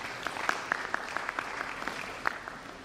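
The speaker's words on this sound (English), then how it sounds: "please give it a round of applause." Scattered, fairly sparse clapping from an audience at an annual bursary lecture, greeting the head of the University of Technology, with a few sharper claps standing out over a low room murmur.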